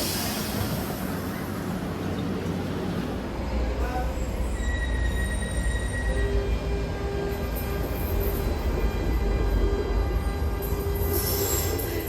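A Tren Ligero light rail train in Mexico City rumbles steadily along the track, its wheels squealing in drawn-out high tones, with faint voices in the carriage.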